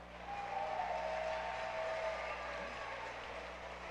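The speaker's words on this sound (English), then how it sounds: "Let's give them a round of applause." An arena audience at a FIRST Robotics Competition Dallas District event applauds volunteers, a steady wash of clapping from a large crowd, fairly distant and even, with a faint tone briefly sounding over it.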